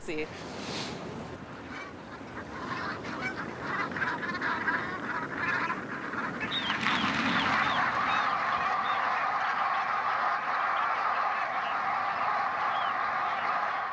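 Geese honk and call in a dense, continuous chorus on a windswept North Sea island, loud and close, the flock growing busier and more insistent partway through with overlapping calls throughout.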